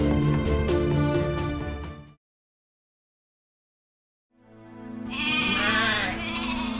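Sheep bleat in an animated fairy tale, a loud wavering bleat followed by silence, then another bleating sheep cry rising over a low background.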